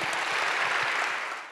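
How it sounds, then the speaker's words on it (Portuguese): Members of a church congregation applaud together, a short, even wash of clapping that fades out quickly at the end. "Aplauda Jesus."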